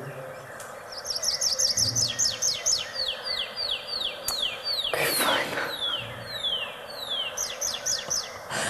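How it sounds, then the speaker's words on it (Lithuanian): Birds in Dzūkija, Lithuania sing clear, rapid chirping phrases, repeated in quick bursts with pauses between, close and lively; a person briefly speaks partway through. "Gražiausia muzika yra paukščių čiulbėjimas"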